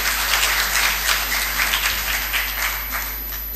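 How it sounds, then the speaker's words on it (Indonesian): An audience at an official ceremony applauds in honour of Papuan women, a moderate wash of clapping over a steady low hum, continuous for a few seconds without speech. "Tepuk tangan untuk perempuan Papua."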